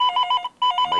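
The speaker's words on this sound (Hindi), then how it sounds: "भैया फोन आ गया।" A telephone rings loud and close in two quick trilling bursts separated by a brief pause, with each burst made of rapid electronic pulses and no voices present.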